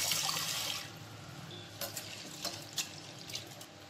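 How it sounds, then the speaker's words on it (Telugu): Split chickpeas are rinsed in water in a kitchen: an opening rush of running or sloshing water fades, followed by several short, soft splashes and swishes spaced out as the dal is stirred and washed. "వీటిని ఒకసారి నీట్గా వాష్ చేసేసుకోవాలి."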